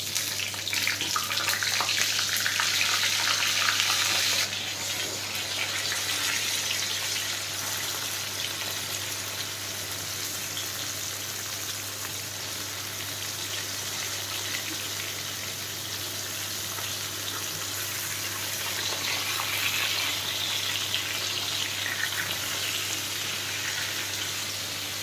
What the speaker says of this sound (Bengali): গরম মশলা ফোড়ন দিয়ে একটু ঘি দিলাম, দিয়ে এবার পটলগুলো এর মধ্যে ছাড়ছি